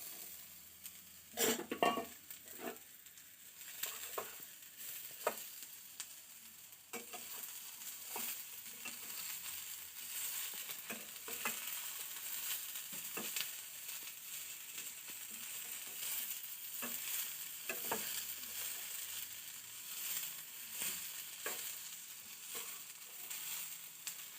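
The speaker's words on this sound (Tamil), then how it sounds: "இப்போ அதில் கோவக்காயை போட்டு நல்லா வதக்கணும்" Ivy gourd being sautéed in a pan for a South Indian stir-fry gives a quiet, steady sizzle with repeated spatula scrapes and light clinks against the pan. The sound is close but faint, with no talking.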